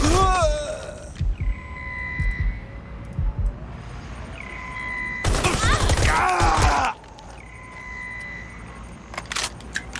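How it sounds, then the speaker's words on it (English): Gunfire in the Watch Dogs Legion video game comes in bursts of sharp shots and rapid volleys, loud and close, with beeping tones between the bursts and a voice speaking over parts of the fight. "I'm getting shot out here!"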